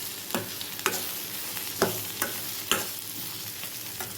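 A spoon scrapes and stirs beetroot curry frying in a pan, several distinct stirring strokes spaced about half a second apart over a steady soft sizzle, close and alone.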